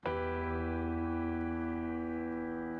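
One synthesized piano note, processed with compression, EQ and reverb, rings out full and polished, holding a long, rich sustain with a gentle reverberant tail and barely decaying.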